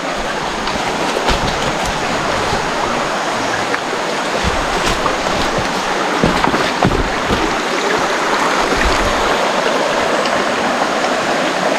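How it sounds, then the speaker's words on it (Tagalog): Steady rushing of river water flowing close by as someone wades across, a continuous broadband wash with occasional splashes, no voices. "patawid na tayo dito sa ilog"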